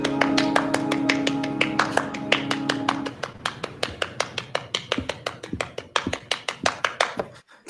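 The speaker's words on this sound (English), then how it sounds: "is interrupted by the sound of clapping" Slow, deliberate clapping from one person as a sound effect in a live Star Trek radio drama read, crisp evenly spaced claps first over a sustained musical chord, then continuing alone and fading.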